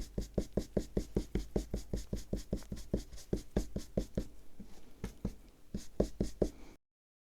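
Rapid, regular taps and flicks of a paint-loaded brush being flicked around the edge of a stamped card, a steady close-up patter that slows slightly near the end, with no talking.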